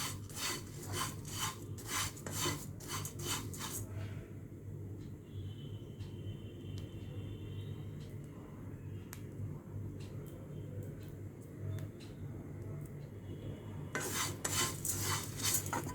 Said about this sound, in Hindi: धीमी आंच पे इस चूड़ा को भूनना है